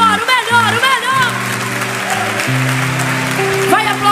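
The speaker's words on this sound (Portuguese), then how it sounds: "Dê o melhor aplauso que você puder por essas vidas." A church congregation applauds in a broad wash of clapping, while sustained music or singing carries loudly over it throughout.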